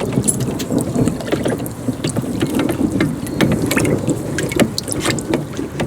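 A brew of pellets is stirred in a big trash can, giving continuous sloshing and scraping with rhythmic clacks and knocks, close and fairly loud.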